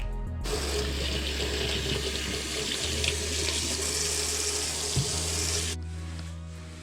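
Potatoes being rinsed under a running kitchen tap, a steady close hiss of water splashing into the sink for several seconds before it shuts off.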